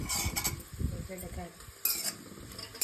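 Okra stirred through a pan with turmeric, a spoon scraping and clinking against the metal in quick irregular strokes over a faint sizzle, close and alone.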